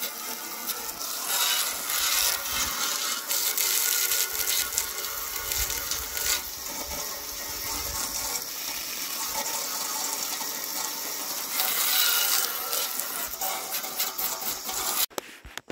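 A hose sprays water steadily over the sanded body of an S-15 car, a loud continuous hiss that runs unbroken for about fifteen seconds, then sputters and cuts near the end.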